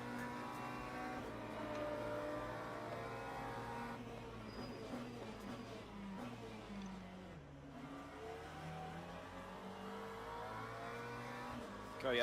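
An LMP2 prototype race car in the Le Mans Ultimate sim at Sebring drones with steady engine tones that rise and fall through gear changes, heard from the cockpit alongside other cars, with brief speech.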